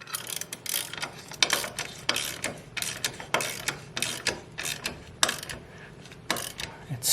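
Log staircase fasteners being tightened, a rapid series of sharp ratcheting clicks in short bursts with brief pauses, close and fairly loud, with occasional low voices in the background.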